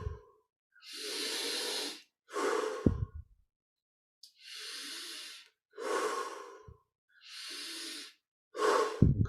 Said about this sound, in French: on augmente progressivement l'amplitude de chaque respiration